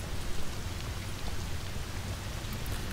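Rain weather effect in the online game Legends of Aria: a steady, even hiss of falling rain and pattering drops, moderately quiet and continuous, with no voices over it.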